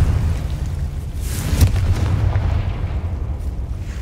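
A Confringo fire spell explodes in Hogwarts Legacy, a deep rumbling boom with a sharper crack in the middle, over steady low game ambience, with no talking.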